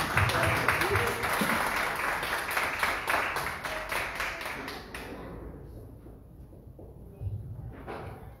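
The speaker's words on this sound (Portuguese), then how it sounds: "Pastor Carlos Júnior, uma salva de palmas para ele." Church congregation clapping for Pastor Carlos Júnior, a dense burst of applause that thins out midway and fades into a quieter room with scattered voices.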